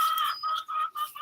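Chickens cluck in short, bright bursts, several calls in quick succession, close by and fairly loud, with no other sounds around them.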